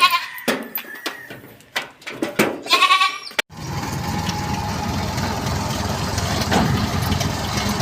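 A goat bleats several times in short, wavering cries while being carried by vehicle near Calapan, Oriental Mindoro. An idling engine then rumbles steadily underneath.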